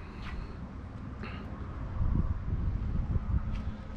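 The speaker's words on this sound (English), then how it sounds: "It's super windy in the back of the house, folks." Gusty wind blows behind a house, a dull, steady rumble buffeting the microphone that swells a little louder partway through, with no clear voice over it.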